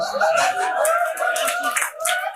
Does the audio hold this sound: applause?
yes